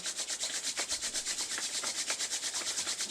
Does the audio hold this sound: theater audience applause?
no